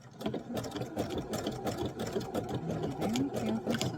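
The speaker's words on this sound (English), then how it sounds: "Be very careful sewing it" A sewing machine stitches binding onto a quilted Bali bowl, its needle clattering in a fast steady rhythm close up, with a few brief pauses and soft handling noises between runs.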